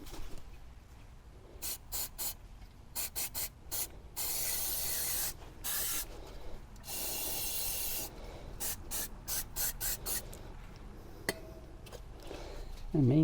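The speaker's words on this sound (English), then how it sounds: "I'm going to clean this off with brake cleaner because I want to get all these little things off of here" Brake cleaner sprays onto a steering knuckle in repeated short hisses and a few longer blasts, close and fairly loud, broken by brief pauses and rubbing sounds between them.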